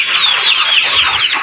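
A chicken clucks loudly and continuously close by, its calls overlapping in a busy, high-pitched stream.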